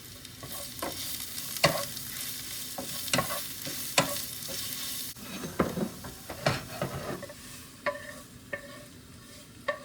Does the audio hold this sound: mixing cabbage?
yes